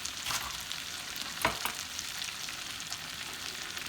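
Onions sizzling in a pot after shrimp has been cooked in it for a seafood boil: a steady, moderately loud frying hiss with a few brief stirring clanks near the middle.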